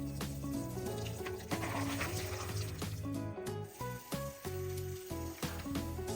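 Water swishes and splashes steadily as soaked kidney beans are rinsed in a pot, with a continuous wet sloshing that stays close and fairly loud throughout.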